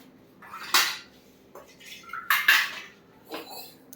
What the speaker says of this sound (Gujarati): અને મમ્મી હવે વાસણ ઘસશે